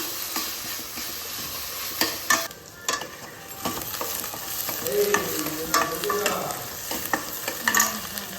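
Mutton pieces frying in a pan until deeply browned, with a steady sizzle and repeated scraping strokes of a spoon stirring the meat, close and fairly loud.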